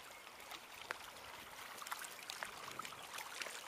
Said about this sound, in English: Just listen to the water.